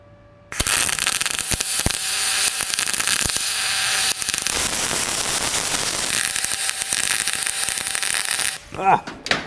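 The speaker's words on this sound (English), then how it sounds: "I'm halfway through the weld" An ArcCaptain spool gun welding aluminum gives a loud, continuous crackling buzz that runs for about eight seconds, then cuts off abruptly.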